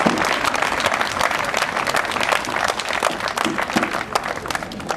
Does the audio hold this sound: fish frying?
no